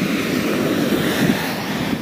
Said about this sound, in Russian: Небольшой каскадик водопадов.